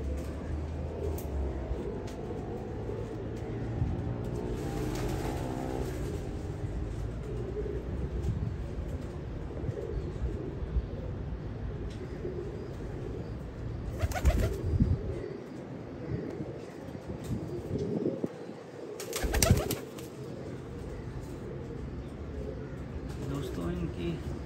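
A breeding pair of pigeons cooing in a loft: soft, low repeated coos heard under someone talking at length, with a few louder thumps and bursts partway through.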